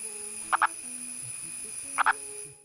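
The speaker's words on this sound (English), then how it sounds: "its mating call sounds less like a frog and more like a lost" A rare frog from the Periyar region of India gives its mating call, two short paired clucking croaks spaced a couple of seconds apart, fairly close over a quiet background with a faint steady tone.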